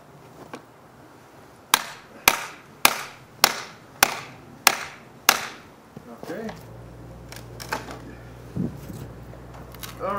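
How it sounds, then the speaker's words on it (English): Seven sharp strikes from a small pocket hammer land in a quick, regular rhythm, close and loud, followed by quieter shuffling and handling noises. "handy dandy pocket hammer."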